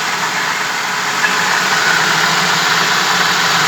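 A ZMZ-406 engine idles steadily up close with worn engine mounts, giving a loud continuous hum that holds even throughout, with no talking.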